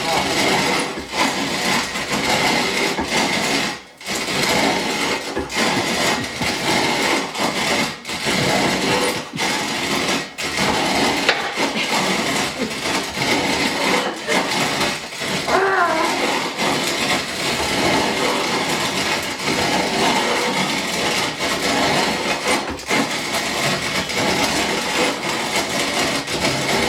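A hand-cranked manual wheat grinder grinding wheat makes a continuous harsh, gritty rasping that stays loud and even for a long stretch with only brief breaks, close to the ear.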